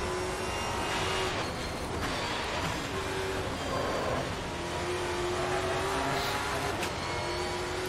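New Stock Car Brasil race cars in Automobilista 2 drive on a wet Hockenheimring, with a loud, continuous engine drone holding steady under heavy road and spray noise.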